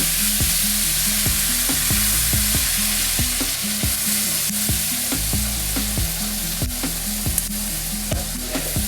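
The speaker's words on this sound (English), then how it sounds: "I'm going to go ahead and saute up our garlic a little bit." Garlic sautéing in a pan at medium heat for garlic noodles with lobster, a steady near sizzle broken by regular scraping strokes of a utensil stirring roughly every half second, with no voice.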